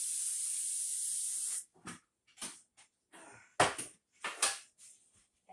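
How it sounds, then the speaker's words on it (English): An aerosol can of cooking spray hisses in one steady, close burst for about a second and a half, followed by quiet kitchen handling noises and soft, scattered talk. "Give me some spray."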